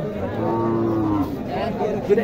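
Cattle lowing at a crowded livestock market in Bangladesh, a long, loud moo with harmonics rising above a busy background murmur, followed by fainter crowd noise.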